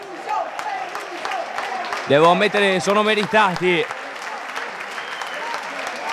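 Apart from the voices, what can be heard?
stadium crowd applauding a football player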